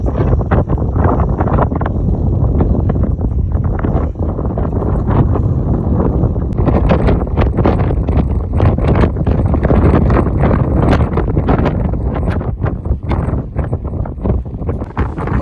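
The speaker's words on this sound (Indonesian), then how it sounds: "Di atas ini angin sangat kencang." Strong wind on a hilltop by the Willem's Toren III lighthouse on Pulau Breuh, a loud, constant roar buffeting the microphone with gusty bursts throughout and no talking.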